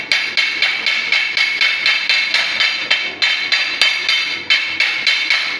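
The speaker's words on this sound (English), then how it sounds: "It's not the right hammer, this is a machinist hammer." A machinist hammer strikes welded metal on a DIY pull-up bar curtain rod build, about two sharp ringing blows per second in a steady rhythm. The strikes are close and loud, with no talk.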